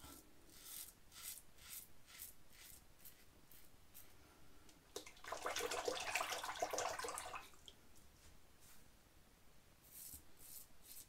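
A Parker semi-slant safety razor with a carbon blade shaves two-day beard stubble on the first pass with the grain, giving close, soft scratchy strokes in a rhythmic series and one longer rasping stretch midway.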